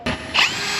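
A short burst of a power drill whirring close up on a sailboat, drilling for a DIY dinghy davit arch, its pitch rising briefly before settling into a steady grind.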